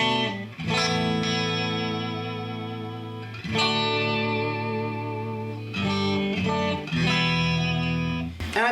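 Electric guitar through a Soldano Avenger 100 tube amp, volume rolled down so the tone cleans up: bright, sparkly strummed chords ringing out in three long sustained phrases, each decaying before the next strum, with no talking.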